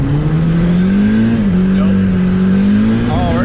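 A turbocharged Honda Civic wagon engine revs hard and steady while drifting sideways through snow, the loud engine note holding and rising slightly across the whole stretch with a brief dip midway.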